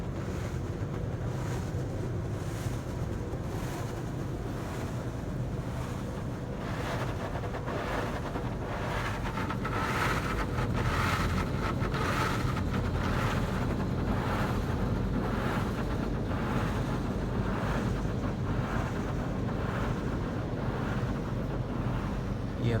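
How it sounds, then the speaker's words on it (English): Pre-soak spraying inside a WashTec SoftLine 2 tunnel car wash in Gungahlin, ACT: a steady, loud, broadband hiss and rush of water jets washing over the vehicle, with rhythmic surges as the spray arch passes, heard from inside the car. "The pre-soak starting."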